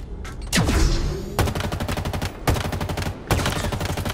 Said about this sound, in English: I'm just going to use this AR, shoot it through a drop wall